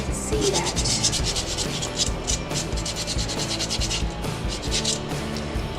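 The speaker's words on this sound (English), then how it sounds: "the next step to do after that is just kind of just scrape it off so you can see that" Paint scraped off a painted mason jar with steady, close, gritty rubbing strokes that repeat without pause, and no talking.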